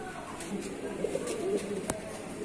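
Foreign-breed pigeons at a pigeon farm in Natore, Bangladesh, giving soft, low rolling coos close by, with faint talk in the background.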